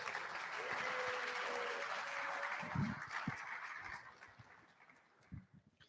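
Applause for assembly candidates at a political gathering, a quiet, fairly distant wash of clapping that holds for a few seconds and then thins out into scattered claps and light thumps.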